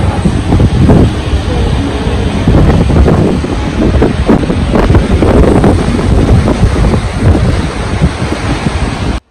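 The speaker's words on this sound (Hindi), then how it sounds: "क्रूज़ जो है वो पानी को चीरता हुआ काटता हुआ आगे की तरफ भर रहा है" A cruise ship cuts through open sea, loud churning water and surf rushing steadily past with heavy wind buffeting the microphone throughout, ending abruptly.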